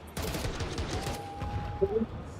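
Gunfire in a Counter-Strike 2 match at an IEM Chengdu 2024 semifinal, a fairly faint burst of rapid shots near the start followed by scattered game effects, with quiet speech in the background.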